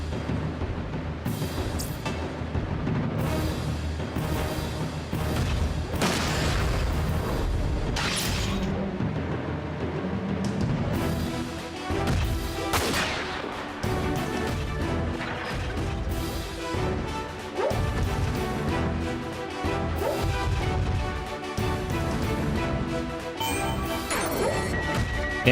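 Airstrike explosions in Front Mission 4, a run of heavy crashing blasts and booming impacts that repeat through the stretch, loud and dense, with little or no talk.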